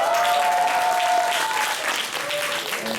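Audience applauding at a school graduation project presentation, dense steady clapping from a crowd filling the whole stretch at an even, fairly loud level.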